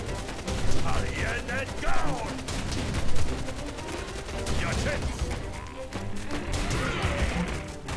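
Tooth and Tail units opening fire in a chaotic real-time strategy battle, with rapid overlapping bursts of gunfire and crashing impacts continuing throughout, dense and fairly loud with scattered voice-like calls in the mix.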